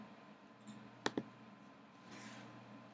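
A computer mouse gives a quick double click, two crisp taps close together, near and fairly quiet over a soft background hum, with no one talking.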